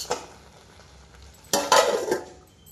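A spoon stirs pulagam, a rice-and-moong-dal dish finished with ghee, in a pot: a faint scrape at the start, then a louder burst of scraping and clinking against the pot for about a second.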